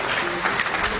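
Applause from an audience at a fundraising event for an Islamic institute: a dense, steady patter of many hands clapping at once, filling the whole short moment at an even level with no voices standing out.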